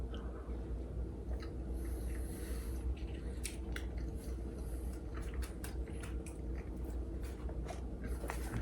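Someone bites into and chews Entenmann's pumpkin pound cake close to the mic, soft moist squishing and chewing clicks repeating over a steady low background hum.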